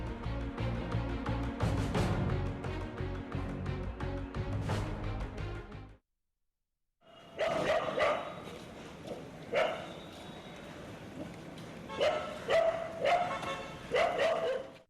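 Stray dogs in a village street bark in scattered bursts, with several loud, close barks and yips among general commotion and a short break of silence partway through.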